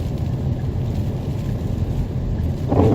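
Strong storm wind roars steadily into the microphone outdoors, a dense low buffeting rush without letup, with a brief louder gust near the end.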